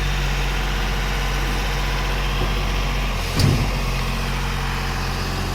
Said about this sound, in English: On these we've got a Mitsubishi engine.